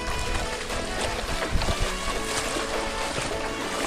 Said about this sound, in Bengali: ঝর্ণার গর্জন শোনা যাচ্ছে।